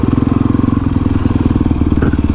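Honda CRF 450X supermoto motorcycle engine running close by with a steady, throbbing low pulse that barely changes pitch, like a loud idle or light throttle, heard without talk.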